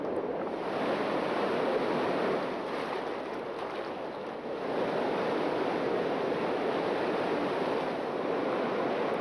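A river current rushes past a riverbank at night, a broad continuous hiss of flowing water with slight swells, steady and close with no voices.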